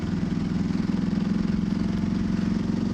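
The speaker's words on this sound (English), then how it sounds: "This bike's bloody loud enough as it is without having to bloody rev the guts out of it." Motorcycle engine idling on a trail ride, a steady, loud low-pitched chug that goes on without a break and is heard on its own.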